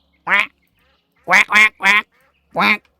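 Ducks in a Roblox animal farm game quack in short, loud, nasal bursts, one call followed after a pause by a quick run of three and then a final single quack, with silence between.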